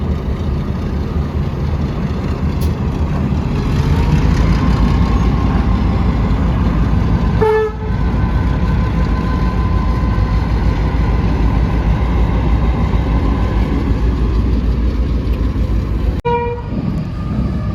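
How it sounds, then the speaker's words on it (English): A Horizon freight train led by locomotives ACD 6048 and ACD 6058 at the Seymour Railway Heritage Centre open day: a loud, continuous diesel rumble and rolling wheel noise, with short horn toots partway through and near the end. "Here is a freight operated by Horizon, using locomotives ACD 6048 and ACD 6058."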